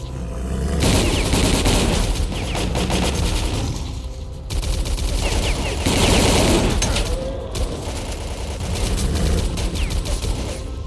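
Dense gunfire from the final mission of S.T.A.L.K.E.R. Call of Pripyat, loud continuous bursts of automatic weapons and overlapping shots filling the whole stretch, with a voice faintly under the battle.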